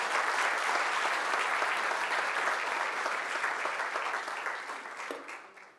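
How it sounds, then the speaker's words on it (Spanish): Sustained applause from a church congregation fills the room, steady and dense for several seconds before fading out toward the end. "Bueno, vamos a aplaudir"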